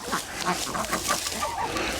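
Farm chickens on a Turkish farm cluck and chatter close by while fresh grass is scattered for them, a busy run of short bird calls with no talking.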